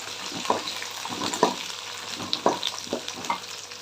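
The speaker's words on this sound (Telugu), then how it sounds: "ఇప్పుడు నేను బెండకాయలు వేస్తున్నా ఇప్పుడు బాగా కలిపేసుకున్నాం" Sliced okra (lady's finger) frying in a pan for a spiced okra masala curry, with a steady sizzle broken by several scraping stirs of a spoon at irregular intervals, close and moderately loud.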